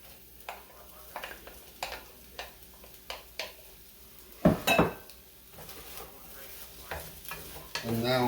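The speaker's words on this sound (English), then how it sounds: "And now I'm just going to mix this all in together." Day-old rice with shrimp and pork being stirred in a pan, a utensil knocking and scraping the metal in a steady rhythm over a soft sizzle, close and fairly quiet.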